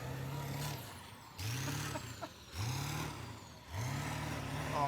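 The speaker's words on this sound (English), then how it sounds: "Of course you're gonna run it over with the truck." A truck engine rises and falls in four repeated low surges as it drives back and forth over a zombie torso target, fairly distant with faint high whines between passes.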